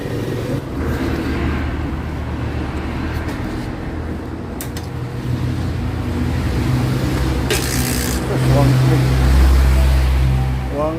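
Barako 2022 motorcycle engine idling steadily after a kick start, a continuous close rumble that swells slightly near the end, with people talking over it.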